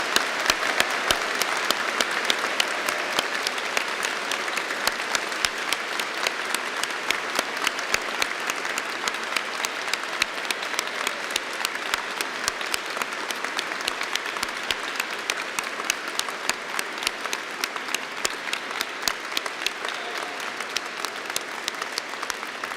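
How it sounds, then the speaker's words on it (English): A large audience at an Open University degree ceremony in Ely claps for the graduates, dense sustained applause that stays loud and even for over twenty seconds without talk. "giving all our amazing graduates a huge round of applause"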